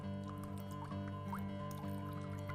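Water drains and drips out of the freshly soaked substrate of a potted houseplant as it is lifted, with faint, scattered drips and small trickles over a steady low hum.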